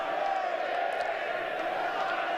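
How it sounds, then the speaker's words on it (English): Spectators at a Lancashire Lightning versus Leicestershire Foxes cricket match cheer steadily, a continuous broad roar of the crowd with scattered whoops and shouts running throughout. "Crowd thoroughly enjoying itself now."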